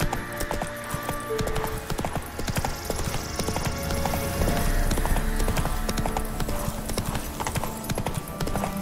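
Roach, Geralt's horse in The Witcher, gallops with a steady rapid clip-clop of hooves close by, with a brief whinny and game ambience layered underneath.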